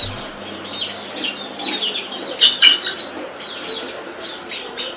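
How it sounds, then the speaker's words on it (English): Chickens cluck and chirp softly at a moderate distance, with a couple of brief louder squawks over a steady outdoor background. "Got some chickens."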